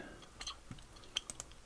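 Gum being chewed close to the microphone, with soft wet smacks and small clicks in an irregular rhythm, faint and intimate against a quiet background.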